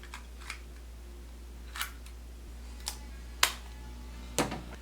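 A tape goes into a Sony DCR-PC100 camcorder, giving a few small plastic clicks and clacks spread over several seconds, the last ones sharpest, close and quiet over a low hum, with no talk.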